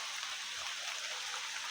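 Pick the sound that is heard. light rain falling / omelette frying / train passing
light rain falling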